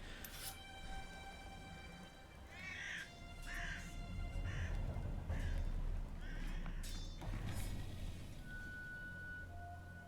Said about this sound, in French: Ah! Les oiseaux, c'est terrible, tous aux abris.